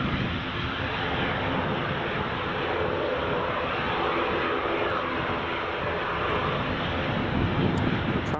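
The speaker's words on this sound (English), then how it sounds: "Logan Air's taxiing, 5 minutes out of schedule." A Loganair airplane taxiing at Edinburgh Airport gives off a steady broad engine roar and whine, moderately loud and unbroken, with no voices heard.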